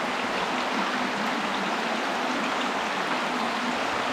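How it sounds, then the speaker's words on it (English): Water rushes steadily along a natural creek inside Deadhorse Cave, a dense, continuous hiss and burble that is close and fairly loud, with no voices over it. "It's just like going to the beach where there's just random water flowing every which direction."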